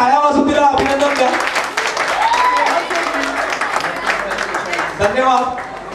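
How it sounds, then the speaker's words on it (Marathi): Audience applause at a DWAP Garba 2025 gathering, a steady wash of clapping running beneath a loud voice speaking over a PA, with music-like tones mixed in. "सगळ्यांनी टाळ्या वाजून तिला अभिनंदन द्या"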